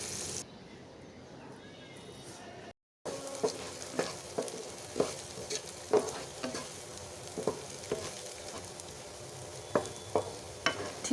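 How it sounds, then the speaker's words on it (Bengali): Onion and garlic sizzle in hot oil in a wok, a steady frying hiss broken by regular scraping strokes of stirring, close and moderately loud. "তেলটা গরম হলে পেঁয়াজ রসুনগুলো এর মধ্যে দিয়ে দিব আর বেশ কিছুটা সময় নিয়ে একেবারে লাল লাল করে ভেজে নেব।"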